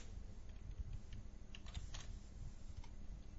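Faint, quick tapping of keys on a computer keyboard as a short description is typed, heard alone against a low steady hum.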